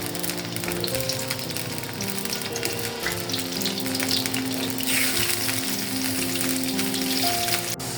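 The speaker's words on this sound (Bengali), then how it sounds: "আমরা আলুটা কিন্তু ভাজা মোটামুটি হয়ে যাচ্ছে" Potatoes fry in about half a cup of oil with a loud, steady sizzle and bubbling, while music plays softly underneath.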